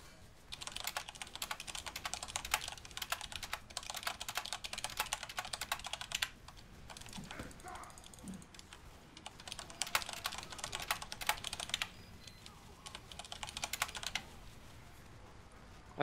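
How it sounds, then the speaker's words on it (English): Rapid typing on a computer keyboard, heard in several bursts of close clicking with brief lulls between them and no voices. "are you typing to someone?"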